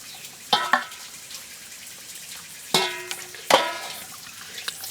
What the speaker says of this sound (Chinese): 这个心呢，我们要切开一下，给它洗，才把它洗掉血水